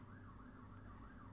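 A police car siren wails from outdoors during snooker commentary, a faint, steady wavering tone heard at a distance that continues throughout, with no talk over it.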